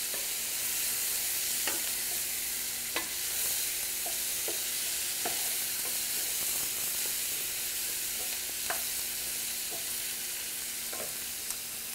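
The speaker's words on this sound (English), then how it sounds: "Give it another little stir" Chopped celery sizzles steadily in a hot pan for an osso buco sauce, a constant close frying hiss broken by occasional sharp taps and scrapes of a stirring utensil, with no voices.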